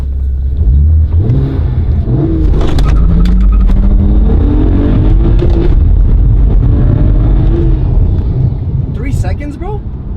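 A BMW 135i with the N54 engine accelerates hard in a 0-60 pull, loud rising engine drone heard from inside the car with quick gear shifts breaking the climbing pitch, while people talk over it.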